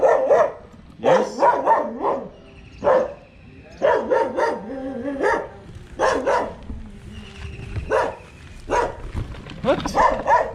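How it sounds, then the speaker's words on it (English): Dogs in Egypt bark at passing cyclists, with repeated loud, close barks coming in bursts and short pauses throughout. "These doggos. Always barking at people on bikes."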